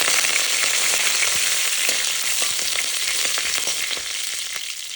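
Curry leaves sizzle loudly in hot coconut oil while tempering for mathanga erissery: a close, continuous crackling fry with scattered sharp pops and faint stirring throughout.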